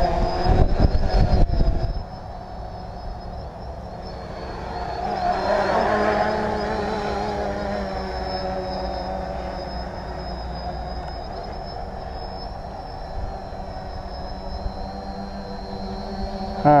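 A wood-frame tricopter hovering under GPS position hold gives a steady, continuous motor and propeller drone, after a short burst of louder handling noise at the start.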